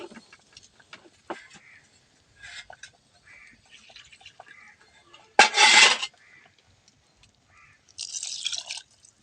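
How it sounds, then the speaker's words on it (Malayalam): Water from a rinsed vessel is poured into a pot of sambar in two short splashing bursts, with faint drips and scrapes in between. "അതിൽ ആ പാത്രം കഴുകിയ കുറച്ച് വെള്ളം കൂടി ഒഴിച്ചു കിട്ടാം"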